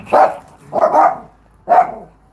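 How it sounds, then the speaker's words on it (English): A dog barks three times, loud and close, in two quick bursts and then a single bark after a short pause, with no other sound between. "So that's the doggy."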